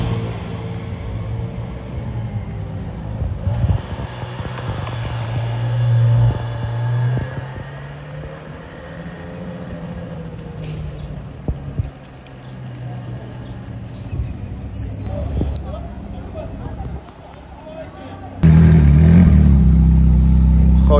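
A Ferrari 458 with what sounds like a non-stock exhaust, revving on a Paris street among supercars: a rumbling engine rises and falls, then booms loud and close at the end.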